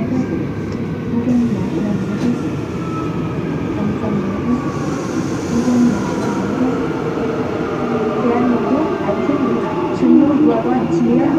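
Inside a Busan subway Line 2 train, Korea, while it is riding: a steady loud rumble and rattle of the carriage with rising and falling wheel whine, continuous throughout with no voices.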